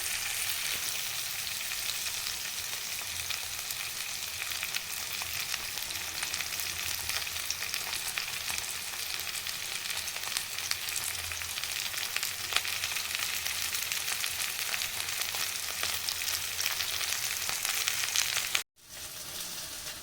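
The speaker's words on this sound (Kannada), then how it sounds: "ಇವು ಬಾಡಿಸ್ತಾ ಇದ್ದೀನಿ" Okra sautéing in oil in a pan for a spicy Karnataka-style bendekayi dish: a steady, loud, close hiss of frying runs unbroken, then briefly cuts out near the end before resuming.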